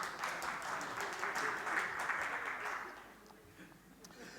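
Audience applause at a political speech by a liberal deputy in the Azores: dense, steady clapping that fills the space, then thins and fades toward the end.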